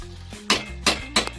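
Three sharp metallic clinks of a utensil striking a pan of chicken curry, evenly spaced, close and fairly loud against a quiet low hum.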